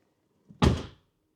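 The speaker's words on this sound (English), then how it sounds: "you're gonna hear me slamming the door" A Tesla Model 3 car door slams shut once with a solid, fairly close thump, preceded by a faint soft sound and followed by quiet.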